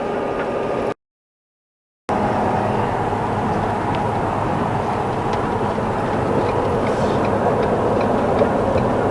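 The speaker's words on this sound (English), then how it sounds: "of course my right hand turn signal is on" A motorhome's right turn signal ticks steadily while cruising at about 45 mph, a regular faint click sitting over the loud road and engine rumble of the moving RV.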